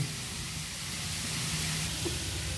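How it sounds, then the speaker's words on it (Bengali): Grated carrots slowly frying in ghee for gajar halwa give off a steady, soft sizzling hiss that holds even and unbroken, with no voices over it. "এখন ঘিয়েতে এটা আস্তে আস্তে ভাজি।"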